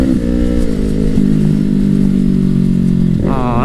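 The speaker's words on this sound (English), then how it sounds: "I want to go for this guy so I can just downshift and hear the boom." A Ducati motorcycle engine drones loudly and close up inside a small tunnel, holding a steady low rumble before a brief shift in pitch near the end, with no distinct backfire boom.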